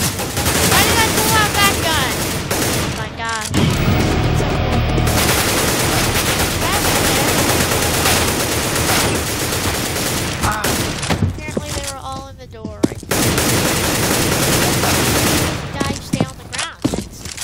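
Rapid bursts of automatic rifle fire and single gunshots from CS:GO, a first-person shooter, rattle loudly and almost continuously, with short lulls and a voice talking now and then.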